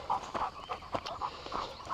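A tired dog breathes in quick rhythmic pants on a hilltop, close and fairly soft, with faint rustling steps around it.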